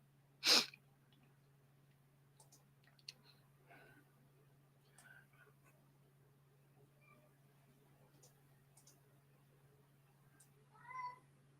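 A cat indoors in a house gives faint meows and a short caterwaul from another room, with a sharp sneeze-like burst early on over a quiet background hum.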